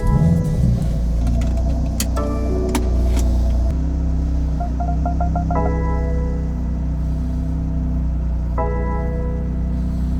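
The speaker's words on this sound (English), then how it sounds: "Let's hop in it, go for a ride, see how it drives." A car on a test ride after repairs, with a steady low road rumble and engine drone throughout and a few brief chimes or clicks from inside the cabin.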